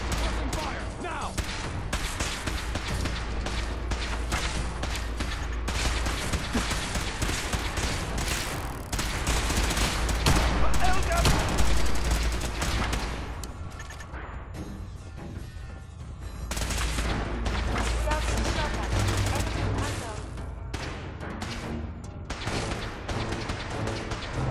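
Sustained gunfire in the video game Fallout 4, dense continuous volleys and bursts with heavy low rumble and booms, loud and near, with shouted voices mixed in.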